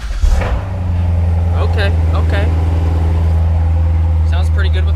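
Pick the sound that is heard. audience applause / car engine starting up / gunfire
car engine starting up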